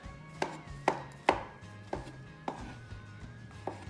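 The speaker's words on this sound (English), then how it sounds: "So I'm going to cut all these up" A knife slices through white and cremini mushrooms on a cutting board, giving about seven crisp, evenly spaced thunks up close over a quiet background.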